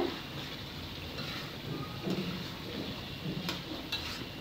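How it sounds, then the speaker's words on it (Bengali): A chicken and chickpea dal curry is stirred in a pot, the spoon scraping softly over a low, steady sizzle with occasional faint clinks against the metal; quiet and continuous, without talk. "আবার নেড়ে চেড়ে দিচ্ছি"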